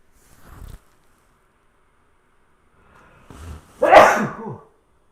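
A single loud sneeze bursts out near the end, preceded by a short intake of breath and a small earlier sound, with silence around it.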